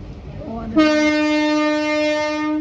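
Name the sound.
train approaching a railway level crossing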